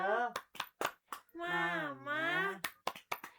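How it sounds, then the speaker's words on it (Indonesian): A school class does a rhythmic clapping chant led by the teacher: bursts of sharp hand claps alternate with children's voices chanting, including one long drawn-out sung syllable in the middle. "kita awali pagi hari kita dengan tepuk semangat"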